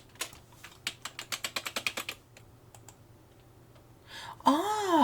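Rapid bursts of keystrokes on an Amiga computer keyboard while working in a music tracker, a quick run of loud clicks that fades out, followed by a brief electronic sweeping tone at the end.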